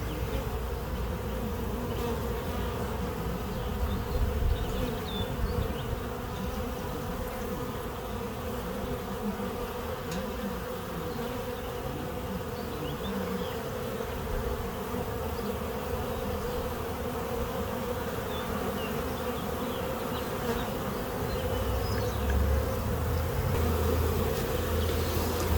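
A honeybee swarm marching onto a deep frame of drawn comb, set out on the ground, hums in a steady, dense buzz that stays loud and even throughout with no voices.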